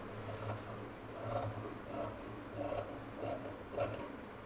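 Scissors snipping through blouse fabric along a curved yoke line during tailoring, a soft rhythmic series of faint crunchy cuts roughly every half second, close and quiet with no talking.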